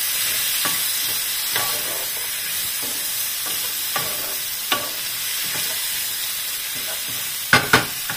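Potatoes fry with a steady broadband sizzle for a lamb curry, while a spoon stirs them in occasional scraping bursts and a couple of sharper clatters near the end, close up and with no talk.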